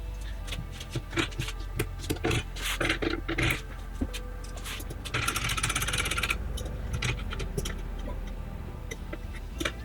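A Zwilling kitchen knife scrapes across a sharpening stone in repeated rhythmic strokes, close and moderately loud, with clicks and a longer grinding pass partway through.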